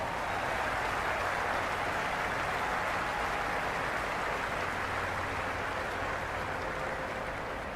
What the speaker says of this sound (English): the crowd have joined the party. It's pretty noisy at the ground.